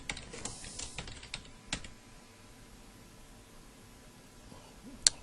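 Someone types a name on a computer keyboard: a quick, quiet run of key clicks at the start, then near silence with one sharp click toward the end.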